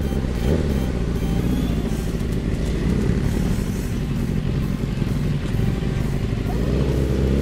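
A Yamaha R6 motorcycle carrying a passenger rumbles along at a steady pace, its engine drone loud and continuous with road noise throughout and no clear revving.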